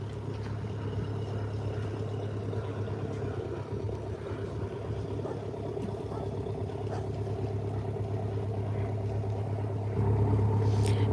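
A diesel river boat motors past at Potter Heigham with a steady low engine drone. The engine grows louder near the end as it revs up, heard alone against outdoor ambience.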